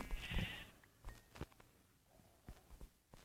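Sheep bleat in the Minecraft video game, a loud bleat at the start and then a few short, quieter game sounds and soft thumps with no talking.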